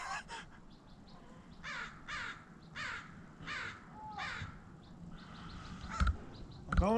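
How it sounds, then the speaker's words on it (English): Several crows caw in repeated bursts, some near and some farther off, over faint background noise and a brief thump near the end. "the crows have decided to gather. Let's hear them."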